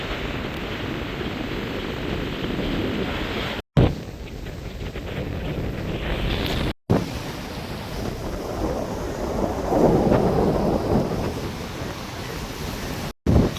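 Cyclone Ditwah lashes the Jaffna coast with a steady, loud roar of heavy rain, gusting wind buffeting the microphone and churning rough surf, with brief cuts in the sound.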